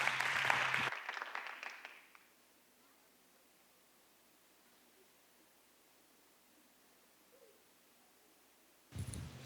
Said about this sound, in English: why don't we give Sister Blankenship a hand clap of appreciation